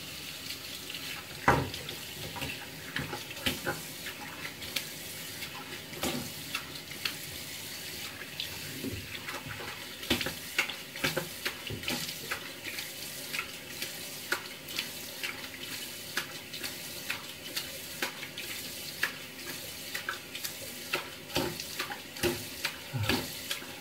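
A bathroom tap runs steadily into a sink as someone rinses off after a shave, with irregular splashes and water breaking under the flow. The sound is close and moderate, and no one speaks over it.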